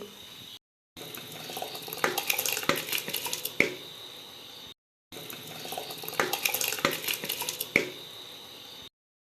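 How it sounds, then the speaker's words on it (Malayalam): Rice is added to a pressure cooker in a home kitchen, with grainy rattling, metallic clinks and a watery wash in two similar bursts separated by short silences. "ഇന്ന് ഞാൻ രാവിലെ കുക്കറിനകത്തിലാണ് ചോറ് വയ്ക്കാമെന്ന് വെച്ചേ അപ്പോൾ അതുകൊണ്ട് അരി ഇടാൻ പോകുന്നു"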